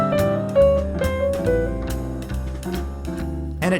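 A guitar plays a short lick of wide-leaping notes over a sustained low chord, ringing and close, with no voices.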